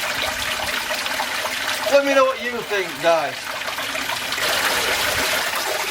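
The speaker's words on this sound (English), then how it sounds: "That will create more water going over." Water trickles steadily over a stainless steel spillway set beneath stone, a continuous close splashing flow heard under a man's speech.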